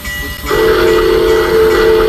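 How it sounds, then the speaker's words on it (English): Steam whistle of a Southern Pacific GS class locomotive in a train simulator game, a loud sustained tone beginning about half a second in and holding steadily to the end over a low rumble. "whistle."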